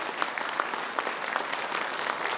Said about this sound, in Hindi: जोरदार ताली बनती है बच्चों के लिए।